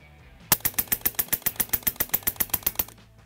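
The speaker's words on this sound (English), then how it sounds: "So we'll reload the mag, do 15 of those fully auto." Fifteen rapid full-auto shots from a Western Sidewinder compact PCP airgun, evenly spaced sharp cracks in a quick burst lasting about two and a half seconds, close and loud.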